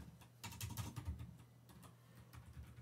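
Quiet computer keyboard typing of C++ code, a soft, close, irregular patter of keystrokes running through the clip over a low steady hum.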